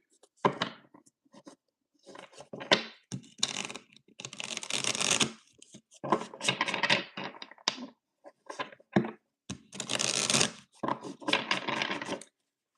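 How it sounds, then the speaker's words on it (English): Bursts of tarot cards being shuffled and riffled, close up, in repeated irregular bouts with brief pauses between them; no talking. "Let me shuffle."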